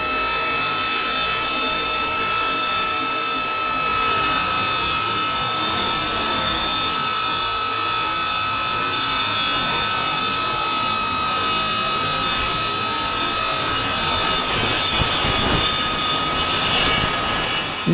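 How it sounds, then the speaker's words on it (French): A power saw cuts through a wooden wardrobe panel along a pre-drawn line, a steady loud whine with a high tonal hum that runs unbroken for the whole stretch, close by and with no voices. "et on passe maintenant sur la scie."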